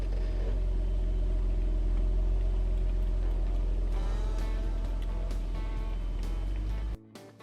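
A car engine rumbles steadily while towing a small wheeled inflatable boat bungeed to the hitch, a loud low drone with a rising rev partway through before cutting off abruptly at the end.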